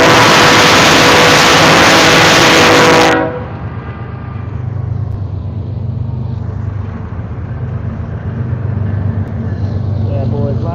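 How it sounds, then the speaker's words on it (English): Loud freight train rumbling past close by, with a horn blast at the start that cuts off sharply, followed by steady heavy rolling and rattling of wagons, under a voice. "Another train coming by."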